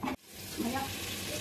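Steady crackling sizzle of hot ghee in a pan, continuous and close, with a brief clatter at the start.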